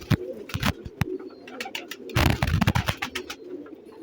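A pair of white pigeons, a male and a female, coo in repeated bursts close by. The rolling coos come and go with short pauses between them and have an uneven rhythm.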